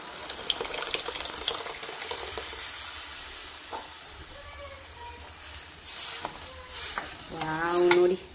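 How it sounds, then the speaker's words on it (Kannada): Dal is tipped into spinach frying in a pan for dal palak tadka and stirred, giving a soft, steady sizzle with scraping stir strokes and some sloshing clinks near the end, close by with no talking. "ಇವಾಗ ದಾಲ್ ಹಾಕ್ತಿದ್ದೀನಿ."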